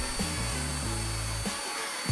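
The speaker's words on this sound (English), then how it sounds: "I unpacked the belt sander and sanded off the roughest part." A belt sander runs over 40-grit plywood with a steady motor whine whose tone shifts in steps as pressure changes, close and loud, dropping off near the end.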